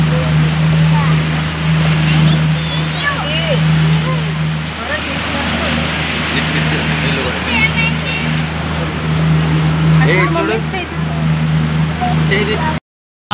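Motorboat ride on the Kinnerasani reservoir near Palvancha, with a steady engine drone, water splashing against the hull and wind buffeting throughout, and voices talking over it.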